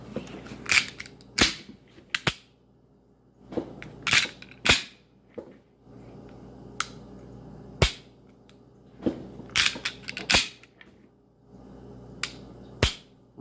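Taurus PT111 G2 9mm pistol fired outdoors, sharp loud reports coming in scattered pairs and singles across the stretch, each shot cracking over a quiet background with a short decay.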